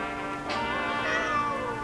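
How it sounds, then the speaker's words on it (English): A pet cat gives a single drawn-out meow, clear and close, rising then sliding down over a steady indoor hum. "Sorry, my cat wanted to make an appearance apparently."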